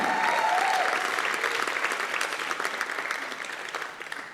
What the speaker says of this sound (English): Put your hands together for Siphokazi Jonas.